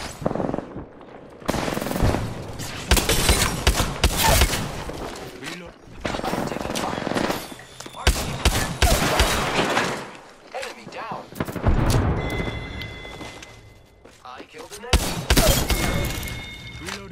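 Rapid bursts of automatic gunfire crackle and pound in the Apex Legends video game, with repeated volleys separated by brief lulls and heavy impacts throughout, while a voice calls out over the shooting.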